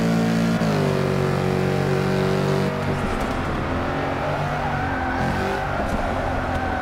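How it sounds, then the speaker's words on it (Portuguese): Mercedes-AMG GT S Cup race cars drifting around Brands Hatch in Forza Motorsport 6, a loud sustained engine drone with shifting pitch and tire squeal, steady and close throughout. "Eles estão ali fazendo ali a Drifts."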